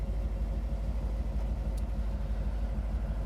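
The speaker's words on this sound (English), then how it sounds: "Listen to that idle." A 1967 Chevrolet Chevelle SS sits idling, its engine giving a steady low rumble with an even, slightly lumpy pulse, close by and alone without talk.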